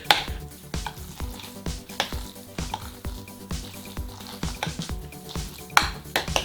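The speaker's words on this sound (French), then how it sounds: "assure-toi de bien mélanger, fais des grands mouvements, ça mélange mieux" Ham and egg filling for Easter dyed eggs stirred in a bowl, with a steady run of close, soft scrapes and clinks of utensil against the bowl in an irregular rhythm, no talk.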